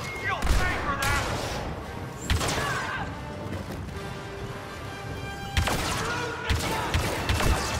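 In the Star Wars Battlefront 2 game, blaster gunfire comes in bursts of sharp zaps and impacts mixed with crashes and a bed of battle noise. A loud volley opens the clip, more shots follow, and another heavy burst comes near the end.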